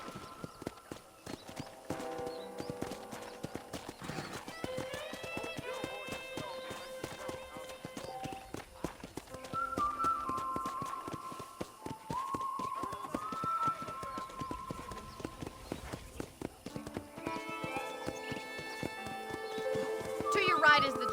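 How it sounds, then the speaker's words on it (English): Horse hooves clip-clop steadily while riding on a ranch property in the Red Dead Redemption game, heard under ongoing spoken dialogue and a musical score, with an occasional whinny. "I picked out a fine horse for you."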